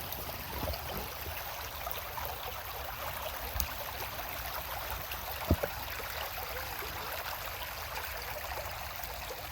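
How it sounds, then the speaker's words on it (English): Steady broadband rush of a creek running over rocks, continuous and close, with a couple of brief knocks partway through. "The water flowing over the rocks."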